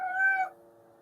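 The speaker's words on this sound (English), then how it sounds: "That's my cat meowing," A pet cat gives one short, clear meow, close and fairly quiet, lasting about half a second before fading into low background hum.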